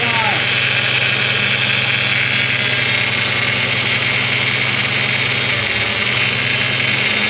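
A broken Honda car engine runs steadily up close with a rough, uneven idle that suggests a misfire. The hum stays loud and continuous throughout, with a slight shift near the end.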